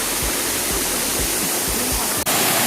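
Salad Dai waterfall in Nakhon Nayok roars in a dense, steady rush of falling water after overnight rain, loud and continuous, with one sharp click near the end.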